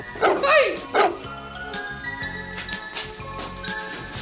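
A bearded man barks like a dog, giving two loud, close, rough bark-like yelps near the start, followed by quieter background sounds.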